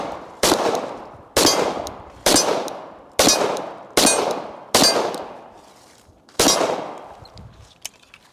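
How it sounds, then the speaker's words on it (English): Seven sharp pistol shots from a 1911 or Glock while shooting on the move, spaced about a second apart and ringing out loud and close with a brief echo after each. "You know what I absolutely never practice? Shooting on the move."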